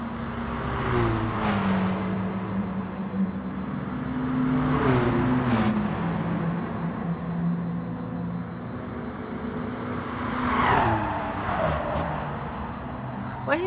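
N300 race cars on the Dragon Trail circuit in Gran Turismo Sport, engine notes droning and sweeping up and down as cars pass and brake, under excited commentary.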